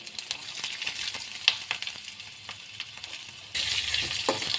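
Ginger and garlic sizzle as they are sautéed in oil for a Kerala hotel-style chicken curry, a steady close frying hiss with light stirring scrapes and clinks that swells louder near the end, with no talk.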